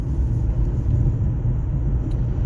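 Inside a moving 2009 Chevy Malibu, low road rumble and a steady engine drone fill the cabin at an even level, with no talking.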